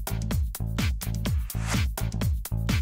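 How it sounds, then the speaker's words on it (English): A remix bassline of short throbbing synth bass notes pulses on the upbeat eighth notes against a steady kick drum, a loud repeating push-pull rhythm with no talking. "The second would be a throbbing bass pattern, and that's going to be on the upbeat or the 8th notes."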